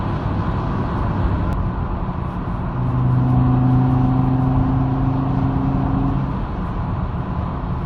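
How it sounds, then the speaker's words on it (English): An Audi 90 20v with the 2.3-litre five-cylinder engine revs, heard from inside the car. The steady drone rises into a louder, throaty hum with strong low harmonics for a few seconds, then eases back down, with no speech. "You can't beat that 5-cylinder sound."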